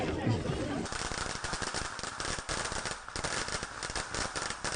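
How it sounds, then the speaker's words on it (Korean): Firecrackers crackle in rapid, dense bursts at a winter mountain god ritual held by loggers, a continuous popping barrage heard outdoors and close by, with people talking. "겨울산의 정적을 깨는 요란한 폭죽 소리 속에 관광객들도 제사에 동참했는데요"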